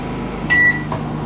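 A microwave oven running on a generator starts up with a short beep and a click, then its fan and hum run on steadily.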